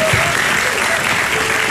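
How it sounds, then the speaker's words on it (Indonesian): A studio audience on the Indonesian talk show Hitam Putih breaks into loud, dense applause that continues evenly for the whole short moment. "Berikan tepuk tangan sekali lagi buat mereka."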